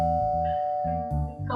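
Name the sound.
doorbell ringing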